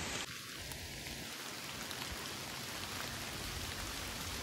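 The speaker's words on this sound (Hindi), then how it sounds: "आज खेड़ में बहुत बारिश हो रही है" Heavy rain falls steadily in Khed during the cold season, a dense, even hiss of drops on surfaces that continues unbroken throughout with no voices.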